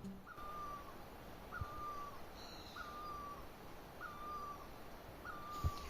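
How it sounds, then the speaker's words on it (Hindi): An Asian koel calls five times in an evenly spaced series of clear, rising notes over a quiet hissy outdoor background in an Uttarakhand village. "पीछे पर ना कोयल भी यहाँ पे कू कू कर रही है, सुनना।"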